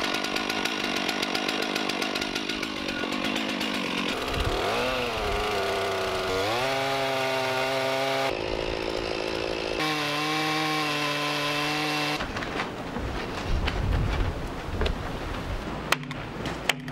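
A chainsaw mills a large timber offcut from a wooden boat's bow timbers, its loud, continuous engine snarl rising and dipping in pitch as the chain bites through the wood, running alone without talk.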